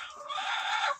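A hen clucks in a single drawn-out, nasal call lasting about a second, close and fairly quiet with no other sounds around it.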